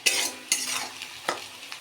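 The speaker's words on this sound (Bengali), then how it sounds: "দিয়ে দেব এই কেটে রাখা পেঁয়াজগুলো। এখন সুন্দর করে ভেজে নেব" Chopped onions sizzle in hot oil in a pan while a spoon stirs them in several scraping sweeps, a close, crackling fry with no talk.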